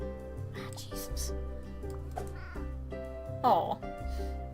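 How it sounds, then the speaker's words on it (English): Cat meows in a video game, a few short mews popping up over busy game music while a person talks over it. "I love those little kitties when they show up every time."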